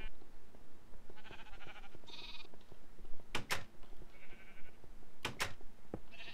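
Minecraft sheep bleat in short, nasal calls, several overlapping in a loose cluster, mixed with a few sharp clicks and faint background ambience.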